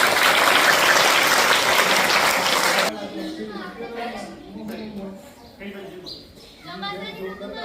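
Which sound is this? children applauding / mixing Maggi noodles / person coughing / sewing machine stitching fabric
children applauding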